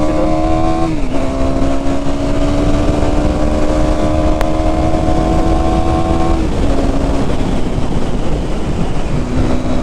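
A KTM Duke 390 motorcycle ridden solo on the highway, its engine droning steadily and loudly with gear-shift pitch drops, wind noise heavy throughout.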